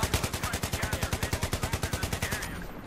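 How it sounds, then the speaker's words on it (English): Rapid automatic gunfire in Battlefield 3 during online multiplayer, a loud close burst of evenly spaced shots that fires steadily for under three seconds before cutting off. "He's shooting us in the back."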